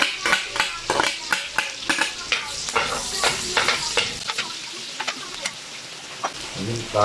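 Garlic sizzles in hot oil in a pan, sautéed after onions as a base for Filipino pancit, with repeated sharp scraping stirs over steady frying crackle, close and fairly loud with no talk.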